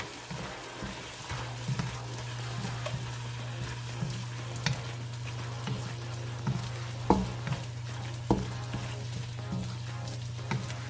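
Spoon stirring eggplant roll filling with grated cheese and Parmesan in a bowl, soft scraping and irregular clicks over a faint steady hum, quiet and close, no speech.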